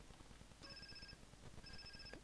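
A phone rings in GTA San Andreas, two bright electronic rings about a second each, separated by a short pause and heard over a steady low in-game background rumble.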